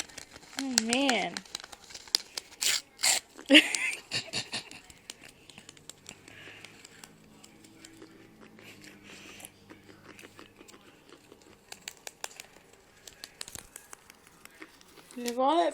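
Dry paper crinkles and tears as a guinea pig chews and nibbles in quick bursts, with a person talking briefly at the start and end.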